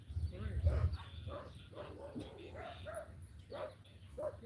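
Dogs give a string of short barks and woofs at moderate distance, rising and falling over several seconds, with low rumbling and people talking faintly in the background.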